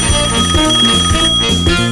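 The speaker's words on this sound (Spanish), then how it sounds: "suena el teléfono." A telephone rings in a comic joke setting at a police station, a bright electronic trill repeating in quick bursts, loud and close with no talk over it.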